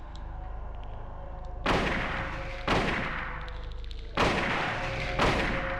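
Four loud, booming rifle shots ring out in the 1999 Silent Hill video game, spaced about a second apart, each with a sharp blast and a decaying tail over a low background drone.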